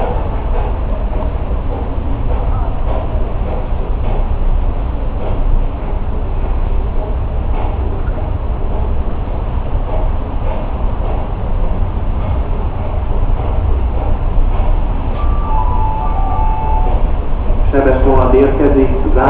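A Traxx locomotive-hauled train from Záhony rumbles steadily at Kőbánya-Kispest station in Budapest with a low, continuous mechanical roar, and a faint tonal announcement chime or brake squeal appears near the end.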